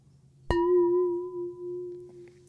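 A water bowl instrument is struck once, ringing with a steady tone and a few fading overtones, its pitch wavering slightly as the water sloshes too much; a soft hum sits underneath and there is no talk.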